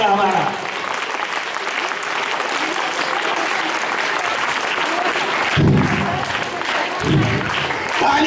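An audience at an Islamic quiz gathering claps in a dense, sustained round of applause, loud and close, with brief bursts of voices and cheering rising near the end.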